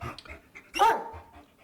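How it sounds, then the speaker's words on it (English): A frightened dog barks in an old building, one sharp nearby bark standing out among softer yips and whimpers, fairly faint overall. "So obviously the dog is freaked out by something."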